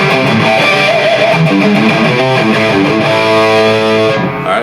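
A Jackson electric guitar played through a distorted amp on the bridge pickup, loud sustained rock chords ringing one into the next, heavy and continuous until a brief fade at the end.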